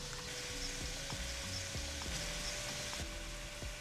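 Shrimp in a honey garlic sauce bubbling on medium-low heat in a pan, a steady close frying sizzle with soft irregular pops and light stirring taps throughout.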